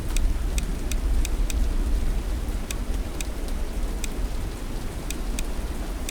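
Steady rain ambience from the text-based RPG The Dark Egg hisses and patters continuously. Sharp, bright droplet ticks land at irregular intervals over the wash.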